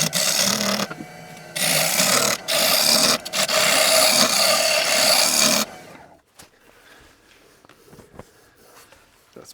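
A wooden bowl, one of the first turned, is cut on a wood lathe with rough tear-out: loud, rasping scrapes come in several close bursts for about six seconds, then drop to a quiet workshop with faint knocks.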